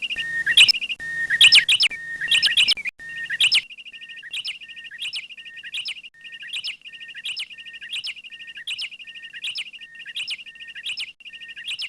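Birds chirp in quick repeated bursts, first several overlapping with some low background noise, then one bird's regular, rhythmic high tweets alone.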